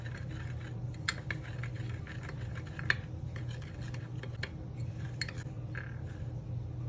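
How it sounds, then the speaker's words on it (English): Seasonings for Jamaican curry goat, without black pepper, are stirred together in a bowl, giving light scattered clinks and scrapes over a steady low background hum. "And we just mix this."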